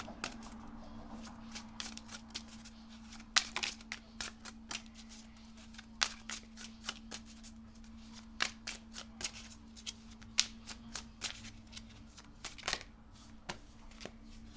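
Tarot cards shuffled by hand in a steady run of crisp riffling flicks and snaps, close and fairly quiet over a low constant hum, with no talking.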